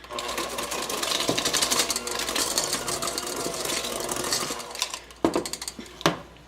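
Electric mixer whirring steadily through lemon meringue cookie dough, a continuous close motorized hum for about five seconds, then a few sharp clinks and knocks against the bowl as it stops.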